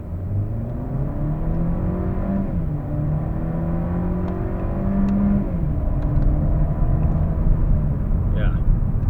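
A Mercedes-Benz C180 W204 fitted with a RaceChip GTS tuning module accelerates hard from inside the cabin, its engine note climbing steadily with clear drops at gear changes, then pulling strongly again.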